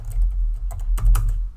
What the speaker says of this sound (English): just type in the main keyword